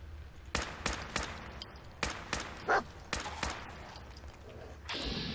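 Gunfire in the video game Fallout 4, a series of sharp single shots fired at irregular intervals about half a second to a second apart, fairly close and punchy, followed by a brief hissing burst at the end.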